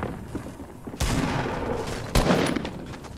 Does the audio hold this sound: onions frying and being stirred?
no